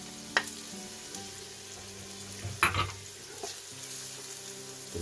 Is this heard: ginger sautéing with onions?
yes